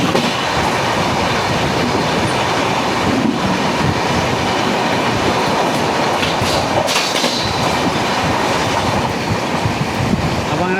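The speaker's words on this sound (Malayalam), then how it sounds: "അപ്പോൾ അങ്ങനെ ബസവ എക്സ്പ്രസ് പോയി." Basava Express passenger train on an Indian railway line passing close by, a loud, continuous rumble with steady clickety-clack of wheels over rail joints throughout, no voices.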